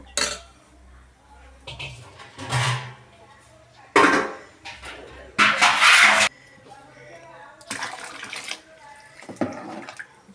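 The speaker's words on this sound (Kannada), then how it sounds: "ಇನ್ನೊಂದು ಸ್ವಲ್ಪ ನೀರು ಹಾಕೋಬೇಕು" Water splashes and pours into a pot of bottle gourd sambar in a home kitchen, in several separate bursts with clanks of vessels between them, while someone talks.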